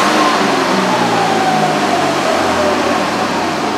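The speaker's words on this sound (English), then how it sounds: "Let me give her a little throttle snap." A Ford Escape with an idle air control overspeed fault roars loudly right after a quick throttle snap, its engine note sliding steadily downward as the revs fall back toward idle, with no one talking.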